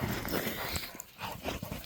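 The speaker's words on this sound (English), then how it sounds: "Dogs are going crazy." Dogs bark excitedly outdoors in the snow, with short scattered bursts heard at some distance and fairly faint.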